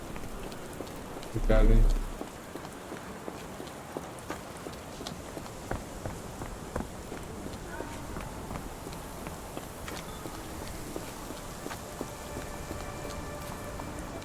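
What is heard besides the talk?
rain in the video game Sherlock Holmes The Awakened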